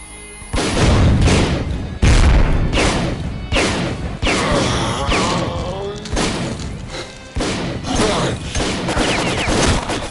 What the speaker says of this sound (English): I gotta hurry and shoot him down.